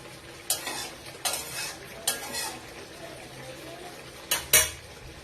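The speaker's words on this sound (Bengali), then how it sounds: "চিলি সস আর টমেটো সস দেওয়ার পর 2 থেকে 3 মিনিট একটু ফুটিয়ে নেবে।" Broccoli gravy with chili sauce and tomato sauce simmers in a pan while a utensil stirs it, giving a few sharp scattered clinks and scrapes over a soft, steady background hiss, with no talking.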